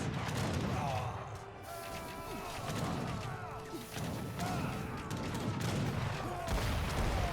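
Artillery and musket gunfire from a battle in Age of Empires III, a steady stream of booms, cracks and crashing impacts layered together at mid distance with no pauses.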